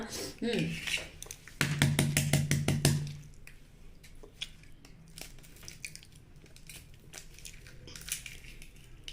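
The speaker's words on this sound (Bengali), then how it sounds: "এখন আমি ডিমটাকে ছুলবো, এই ডিমটা সেদ্ধ ডিমটা" A boiled egg has its shell cracked and peeled by hand, close-up crackling and crunching bursts, loudest early on, then softer scattered picks and clicks of shell coming away.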